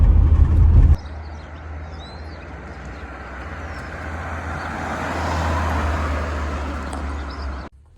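Interior of a classic Ford Sierra cruising at 70 mph, a steady engine drone with tyre and wind roar that swells slightly midway, after a brief louder burst at the start.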